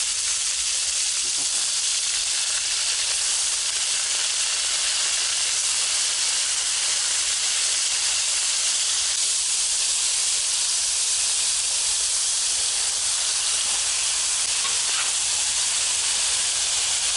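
Loud, continuous hissing sizzle of scallops frying in olive oil in a hot pan, steady throughout with no talking.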